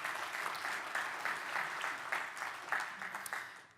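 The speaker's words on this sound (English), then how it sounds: "So a big round of applause for Bombardier," An audience at an aviation event applauds Bombardier, ExecuJet and Wesgrove, a quiet, steady patter of clapping from a room of people that tapers off at the end.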